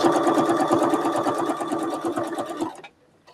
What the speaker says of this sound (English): So I'm going to stitch over to the side just a little bit.